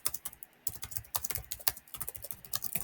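Fingers tapping quickly on a computer keyboard, a close, uneven run of crisp key clicks with brief pauses, faint and with no voices.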